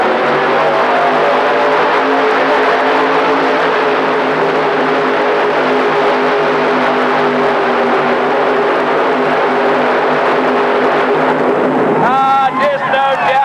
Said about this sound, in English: Ronnie Reed drags it out the end again. What a show. What a job of driving horsepower